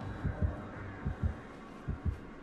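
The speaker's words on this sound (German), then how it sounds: "Ich habe Herzschlag." Heartbeat warning from the killer's approach in Dead by Daylight, the game's terror radius cue: deep low thumps in paired lub-dub beats, three pairs at a steady pace over a soft background hum, with no talk.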